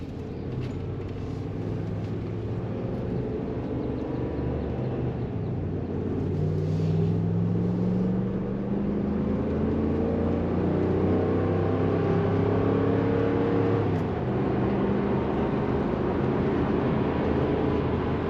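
A 2017 Ram 1500 half-ton with the 5.7 Hemi pulls away while towing a 20-foot enclosed car trailer. The engine drones steadily from inside the cab and rises in pitch as it gathers speed, with no talk.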